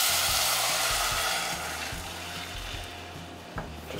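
Rice frying with bacon and garlic in a pot gives a broad, dense sizzle that starts loud and eases slightly, with low rumbling thumps of stirring and one small knock near the end.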